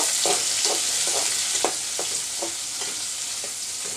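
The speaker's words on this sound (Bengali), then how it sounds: "এবার শুকিয়া পেঁয়াজ রসুন একসাথে ভেজে নিব" Onion and garlic fry together in a pan with a bright, constant sizzle, punctuated by a series of spatula stirs and scrapes at a fairly regular pace, close and loud.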